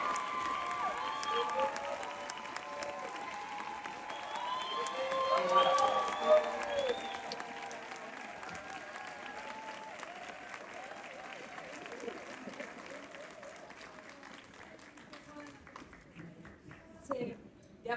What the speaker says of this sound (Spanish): Un fuerte aplauso por favor para Lucero y para Mijares